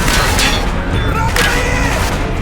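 A frag grenade goes off in Black Ops amid a dense, loud firefight, its boom buried among continuous gunfire and crashes, with shouting voices over the din.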